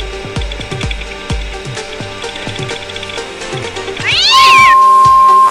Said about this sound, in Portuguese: Eu tenho um gato lindo e maravilhoso.